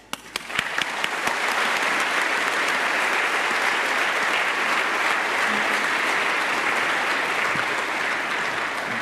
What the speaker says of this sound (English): Let's have a big round of applause for that